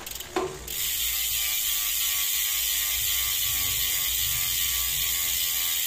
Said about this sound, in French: Ça va être le bruit de la roue libre.